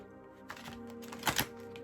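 Tarot cards being shuffled by hand: a few quick papery riffles, with the loudest flurry near the end, close up over a faint steady hum.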